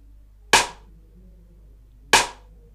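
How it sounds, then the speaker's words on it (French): Two sharp, bright snare drum hits from a sample in FL Studio, set for a reggae beat, spaced about a second and a half apart, each with a quick decaying tail and nothing else between them. "Utiliser ce snare aussi que j'ai tiré là, c'est ça là, dans FL Studio d'ailleurs."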